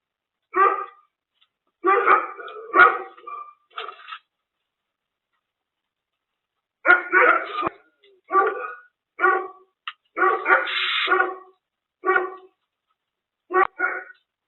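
A dog barks in bursts, several sharp barks grouped together, then a pause and more barks, fairly close with quiet gaps between.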